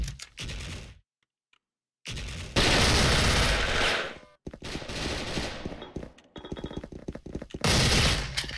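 Loud bursts of rapid automatic gunfire from dual MP9 submachine guns in a video game, separated by brief silences, with a few scattered single shots and clicks between volleys.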